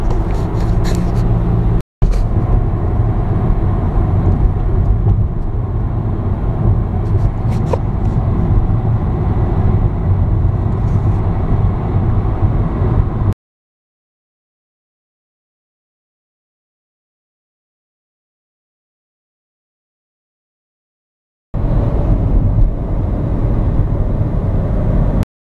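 Steady broadband road and engine rumble from a car driving through a small town, heard from inside the vehicle, continuous and fairly loud, broken by a long stretch of dead silence before the rumble resumes.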